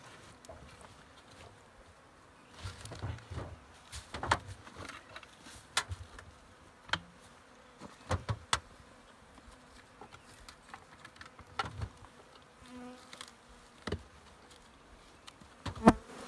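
Bees buzz faintly in an opened hive during spring care while powdered sugar is added to draw out moisture, a low hum broken by scattered knocks, taps and rustles.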